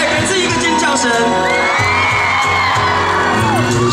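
An outdoor concert crowd at a town festival in Changhua, Taiwan, screams and cheers loudly and continuously, a dense roar of voices with music still sounding underneath.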